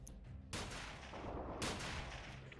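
Gunfire in the video game Freeman Guerrilla Warfare, two loud sustained bursts of broadband shots, one at the start and another about a second later, continuing as dense rattling fire.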